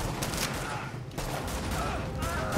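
Rapid bursts of automatic gunfire in The Division, a loud near fusillade of overlapping shots with a brief gap midway before firing resumes.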